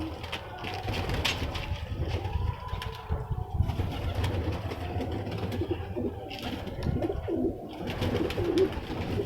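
Pigeons coo in soft, low repeated murmurs close by, mixed with rustling and scuffling sounds throughout.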